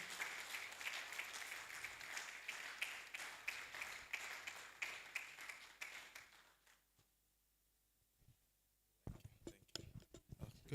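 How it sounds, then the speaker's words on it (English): A conference audience at an African pig industry congress claps as a veterinary official walks to the podium, with dense applause fading to near silence, then a few close, sharp claps and rustling returning at the end. "Keep clapping until it gets to the podium."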